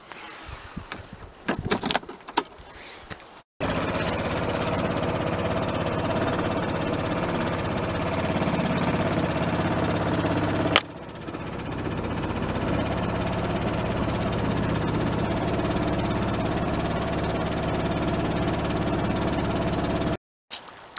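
A gas engine on an off-grid RV setup starts after a few clicks and handling noises, then runs at a steady idle for about seventeen seconds, close and constant, before cutting off.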